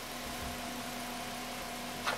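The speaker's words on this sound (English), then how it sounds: "So Abraham is gonna go inside the vehicle and turn off the engine." A VW Rabbit engine idles steadily with a low, even hum and a faint constant whine, a brief brighter click near the end.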